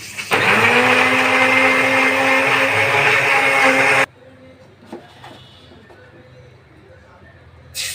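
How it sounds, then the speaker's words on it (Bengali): An electric blender loudly whirs as it purees onions, a steady motor roar for about four seconds that then cuts out abruptly, leaving faint kitchen noise and a few small clicks. "এদিকে আমি পেঁয়াজ ব্লেন্ড করে নিচ্ছি।"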